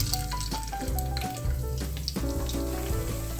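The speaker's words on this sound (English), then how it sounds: "When oil is hot, add all 4 croquettes to pan." Four turkey croquettes shallow fry in hot oil in a frying pan, a steady crackling sizzle close by with a bright tonal ringing layered over it throughout.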